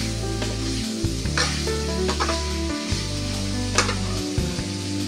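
Mung beans with lemongrass sautéing in a pan for munggo gisado, a loud steady sizzle with frequent stirring scrapes and clinks close up, over a humming low background, no talk.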